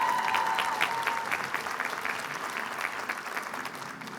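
Audience at a Mount Ida College commencement applauding the faculty, dense sustained clapping from a large crowd that gradually tapers, with no talking over it.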